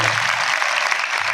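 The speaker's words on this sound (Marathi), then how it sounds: "आपल्या सगळ्या दादांसाठी जोरदार टाळ्या झाल्या पाहिजे" Children at a school gathering give strong, continuous applause for the older students; the dense clapping fills the room at an even level for the whole moment.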